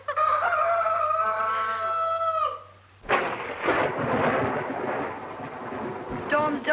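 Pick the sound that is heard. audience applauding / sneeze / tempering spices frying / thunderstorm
thunderstorm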